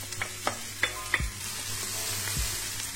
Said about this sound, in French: L'huile est bien chaude. On rajoute tous les légumes en une fois.